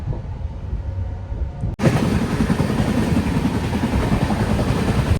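The Telangana Express races at speed in LHB coaches, a dense, loud rushing rumble that begins abruptly after a quieter stretch and then holds steady.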